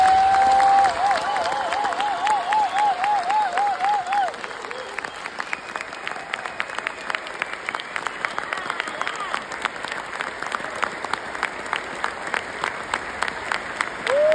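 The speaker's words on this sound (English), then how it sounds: "The collective round of applause that is so well" Sustained round of applause from a graduation ceremony crowd, dense clapping with some cheering, while a voice speaks over the start before the clapping carries on alone.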